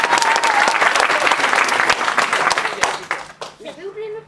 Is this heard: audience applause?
yes